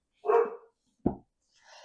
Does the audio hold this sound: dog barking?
yes